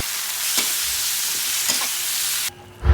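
Beef sautéing with browned garlic in hot oil in a pan makes a steady, loud, close sizzle, with a couple of stirring scrapes. The sizzle drops suddenly near the end, and then a clatter follows.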